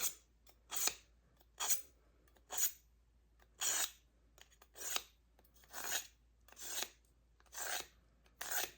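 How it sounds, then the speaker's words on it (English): A knife is drawn repeatedly through a small kitchen knife sharpener, about ten rasping strokes in a steady rhythm, close and fairly quiet against a silent background. "I love this little knife sharpener."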